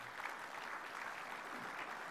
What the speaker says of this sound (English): Round of applause for the mighty Boronia Gold.